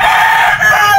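A nine-month-old claret brood stag rooster on a game farm crows once, close and loud, a single strained call that holds briefly, dips, and rises again.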